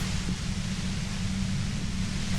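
Steady broadband hiss of white noise in Disco Elysium, an even, unbroken static wash with a low rumbling layer underneath, holding at constant loudness throughout with no talk.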